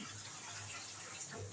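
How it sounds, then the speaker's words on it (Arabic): Taro being washed under a running kitchen tap, a steady broadband stream of water splashing continuously and close at moderate level with no pauses. "بغسل القلقاس حلوه قوي قوي قوي"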